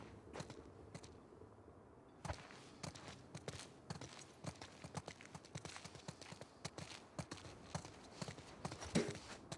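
Horse hooves clip-clopping on the ground in the video game The Last of Us Part II, a steady walking rhythm of close, fairly soft hoof strikes running throughout.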